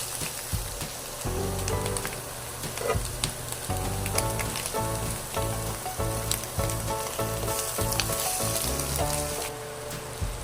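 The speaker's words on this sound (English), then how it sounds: "Now add the fried pork chop." Steady, close sizzling of a fried pork chop in a hot pan for a creamy mushroom pork chop dish, a dense crackling hiss with faint clinks and stirring running throughout, no voices.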